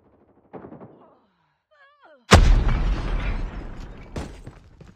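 A grenade blast bursts loudly in Call of Duty, followed by sustained rattling gunfire and a second sharp shot, after a brief faint voice and a whistling tone.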